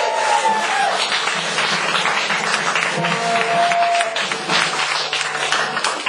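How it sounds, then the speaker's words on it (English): Audience at a live rock concert applauding, a dense, steady wash of clapping from the crowd lasting the whole stretch, close and fairly loud. "I'd like a round of applause because they've really done a lot for me the last few months"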